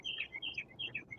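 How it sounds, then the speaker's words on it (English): Pet birds indoors give a quick series of thin, high chirps and tweets, close and fairly soft, repeating in a light, busy rhythm with no talk over them. "Those are my birds."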